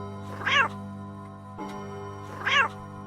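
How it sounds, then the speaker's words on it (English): Meowing from a cat clock in a FNATI fangame horror video game, two distinct meows about two seconds apart, clear and fairly close over a steady electronic hum. "There is a cat clock in the game that meows every time you reach an hour."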